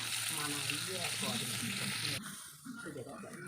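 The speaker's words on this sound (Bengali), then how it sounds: "এইভাবে উল্টে পাল্টে দিয়ে এটা আমগুলোকে ভাজতে হবে" Raw mango pieces fry in refined oil with a soft, steady sizzle and hiss, heard close but quiet beneath a person talking, with a brief dip in the frying noise partway through.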